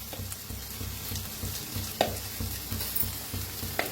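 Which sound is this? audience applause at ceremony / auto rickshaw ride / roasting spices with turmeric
roasting spices with turmeric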